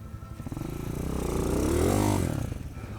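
A motorcycle engine revs hard with a clutch dump during an off-road J-turn attempt, a close, loud, rising then falling throaty roar lasting a few seconds.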